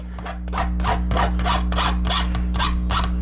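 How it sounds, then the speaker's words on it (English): Straight metal file rasping burrs off a metal part, a steady series of about nine rhythmic strokes, each a bright scraping rasp, close and fairly loud over a constant low hum. "I'm going to just get all these burrs off of this with a straight metal file"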